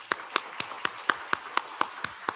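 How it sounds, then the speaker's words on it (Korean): A church congregation claps together during a Sunday morning service, giving a steady, evenly spaced run of about ten firm claps. The clapping is close and moderately loud, with no talking over it. "우리 격려 박수 하겠습니다"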